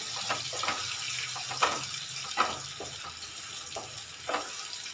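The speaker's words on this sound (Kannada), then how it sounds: "ಪಲ್ಸ್ ಮಾಡಿರೋ ಮಾವಿನಕಾಯಿ ಹಾಕಿ ಚೆನ್ನಾಗಿ ಮಿಕ್ಸ್ ಮಾಡೋಣ ಎಣ್ಣೆ ಬೆರೆಯಂಗೆ" Pulsed raw mango stirred into hot tempering oil in a pan for mango thokku, giving a soft steady sizzle with faint scraping strokes and a few sharper clinks of the spoon against the pan.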